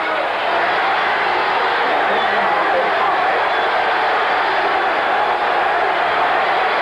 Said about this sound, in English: This crowd at Taylor Field has come alive.